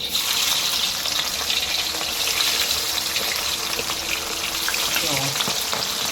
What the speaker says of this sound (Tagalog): Tapos ito ng cooking oil, painitin na natin, tapos ilagay natin ng isda.